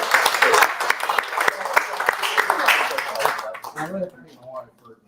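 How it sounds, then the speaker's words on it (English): A small group claps for Mark at a Star Wars Galaxy's Edge cooking session, sharp overlapping claps under cheering and talking voices that fade out after about four seconds, leaving a few words. "I'd say we give Mark a huge round of applause."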